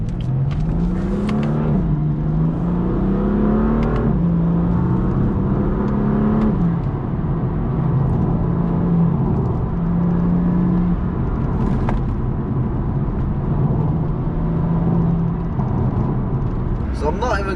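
BMW M4 F82 engine pulling under acceleration, a loud, steady drone with rising and falling pitch as it climbs through revs, continuous from start to finish with a voice talking over it.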